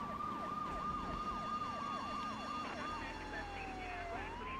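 Police sirens in Grand Theft Auto III wail and yelp repeatedly, a fast rising-falling pattern that shifts into a long sweeping tone over a steady engine hum.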